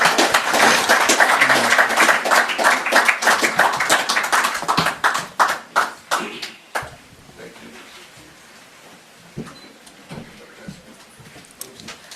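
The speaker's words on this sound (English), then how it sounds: "I believe we could give His Excellency a warmer round of applause for that address" An audience at a Davos convening in Accra applauds after a speech, dense and loud at first, then thinning into scattered claps that fade out, with a few late single claps.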